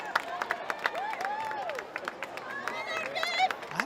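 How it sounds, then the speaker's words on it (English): Crowd cheering and shouting echo through an indoor pool venue at a state primary school swimming championship, a steady lively roar with sharp whistles and calls rising over it. "you can hear those cheers as the girls come down the pool"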